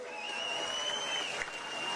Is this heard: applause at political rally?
yes